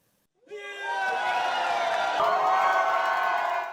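Crowd at a seagull call imitation contest erupting into loud, sustained cheering and whooping, rising suddenly from silence and holding steady with mixed shouts and voices throughout.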